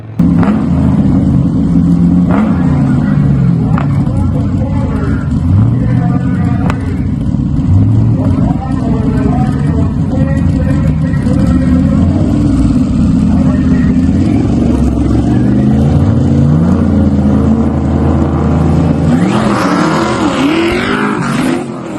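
A drag racing car launches and roars down the strip, a loud sustained engine howl with rising and falling pitch as gears change, joined near the end by more engine noise, with crowd and commentary voices mixed in.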